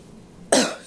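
A single abrupt, close cough bursts out of a quiet indoor room during a house museum exhibit introduction, sharp and breathy, then fades quickly.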